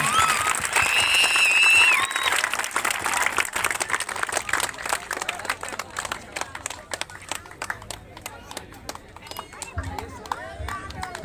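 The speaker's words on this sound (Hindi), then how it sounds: "तालियां बजाएं।" A crowd claps at the opening of a village kabaddi match in Bihar, with dense, loud applause that gradually thins into scattered claps while someone speaks over a loudspeaker.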